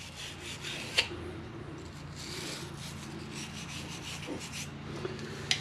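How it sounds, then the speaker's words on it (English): A wire brush scrubs a ball joint on a 2008 Ford F-250 during suspension work, giving a steady close scratchy rasp with a couple of sharp clicks of metal contact. "take your fancy little tool here, otherwise known as a wire brush. Give her a little clean job there"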